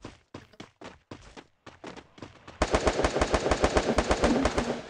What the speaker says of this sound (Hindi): कहां से गोली चली, गोली कहां से चल रही है?